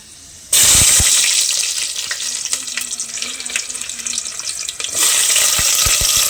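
Onions dropped into hot oil with fenugreek seeds for crab curry, a sudden loud sizzle that holds steadily for several seconds, with a few clattering knocks and a brief faint hum partway through.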